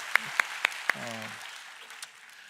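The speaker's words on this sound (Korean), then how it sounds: "박수 한번." Church congregation applause during a Sunday service, with a few sharp separate claps at the start, then a soft, fading patter under brief speech.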